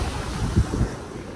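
Low rumbling surf washes steadily, with a slightly stronger swell near the middle, mixed with breezy wind buffeting the microphone.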